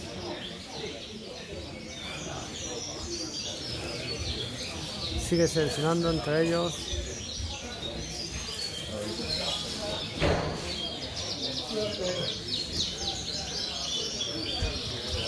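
Pigeons coo and chirp faintly in a busy pigeon show hall, their calls scattered under a Spanish-speaking commentator's voice and general crowd murmur.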